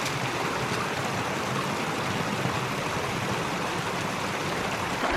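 Creek water flows steadily near a ram pump supply intake, a continuous loud broadband rush and babble with no break, close to the listener.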